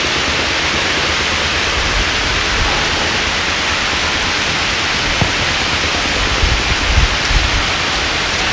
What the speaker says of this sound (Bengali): তারপরে যে এরকম জোরে জোরে বৃষ্টি